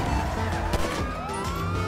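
A police car siren in the video game GTA V Online wails steadily over game engine and traffic noise, its rising and falling tone sweeping through a busy, dense mix with faint voice chat in the background.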